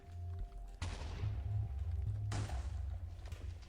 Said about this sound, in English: when I place that down, it instantly explodes